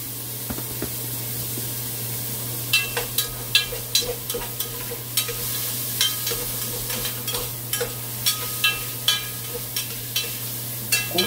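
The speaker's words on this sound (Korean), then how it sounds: "고기는 이렇게 좀 익고 잘 노릇노릇 해질 동안 이렇게 잘 휘저어줘야 됩니다" Beef fries in a pot for Korean seaweed soup while a utensil stirs it, with a steady loud sizzle under repeated sharp scraping clacks against the pot in an uneven rhythm. Nobody speaks.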